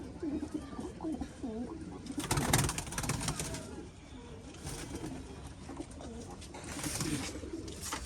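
Pet pigeons coo repeatedly close by in a loose, rolling rhythm, with scattered rustling, a burst of noise and occasional voices in the background.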